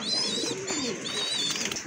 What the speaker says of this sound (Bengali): আরেক জোড়া শাটিন কবুতর, কোয়ালিটি ফুল।